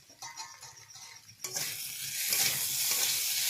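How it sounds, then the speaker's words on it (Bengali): Potatoes sautéing in a pan, a few quiet stirring scrapes and clinks, then the sizzle swells into a loud, steady frying hiss that carries on to the end. "আলু সেদ্ধ না হওয়া পর্যন্ত আমি এইভাবে ঢাকনা চাপিয়ে চাপিয়ে কষিয়ে নেব"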